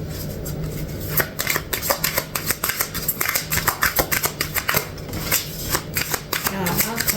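Tarot cards are shuffled in a rapid series of crisp riffling snaps and flutters, close and fairly loud, with a few sharper slaps as cards spill out; a voice speaks faintly in the background.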